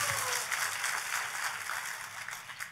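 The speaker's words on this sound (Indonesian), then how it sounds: "Tepuk tangan dong yang paling meriah buat Tuhan kita" Broadband clapping from a church congregation fills the space, a steady, dense wash of many hands at moderate volume with no talk over it.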